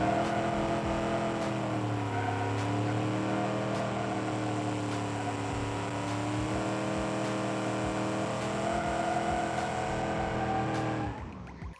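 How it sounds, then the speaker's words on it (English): A 1970 muscle car in a car video game does burnouts, its engine droning and revving up and down with a long continuous tire squeal. The sound is loud, steady and close, with no voices, and cuts off at the end. "Let's do some burnouts."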